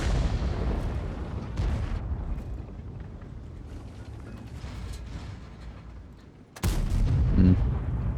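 Tank cannon in World of Tanks gameplay from the KPZ 07 P(E), a heavy booming blast at the start, then rumbling engine and mechanical ambience, then a second loud sharp shot with a clank toward the end.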